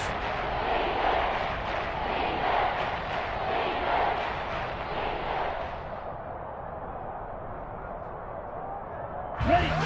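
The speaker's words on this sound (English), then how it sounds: "This red zone is where the Seahawk crowd really makes it tough for an offense to communicate." Seattle Seahawks home crowd roaring at a football stadium during a red-zone third down, a loud continuous wash of massed voices that holds steady, then eases slightly toward the end.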